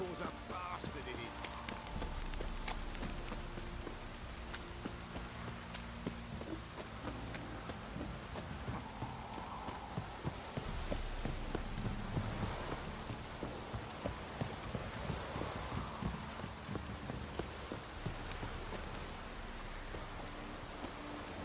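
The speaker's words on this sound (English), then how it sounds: "This downpour's a bastard, it is." Heavy rain pours down steadily in The Witcher 3, a dense hiss of downpour with occasional low rumbles, playing continuously beneath game sounds and faint voices throughout.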